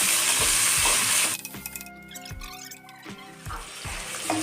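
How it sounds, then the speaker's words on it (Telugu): Tomato and carrot pieces for sweet corn biryani sautéed in a pan: a loud hissing sizzle first, then quieter frying with repeated spatula scrapes and knocks, close by and with no voices. "ఇప్పుడు ఇవన్నీ బాగా వేసుకోవాలి, పచ్చివాసన లేకుండా."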